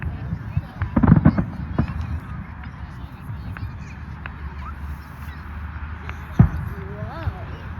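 Fourth of July fireworks display outdoors: a few distant booms and crackling bursts over a low ambient rumble, with people talking and exclaiming nearby.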